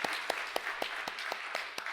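A church congregation at a Sunday worship service claps, heard as a sparse, roughly even run of distinct handclaps at a moderate level with a soft room wash between them and no speech.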